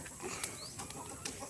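A chicken clucks softly in short, scattered calls against a faint outdoor background, quiet and somewhat distant.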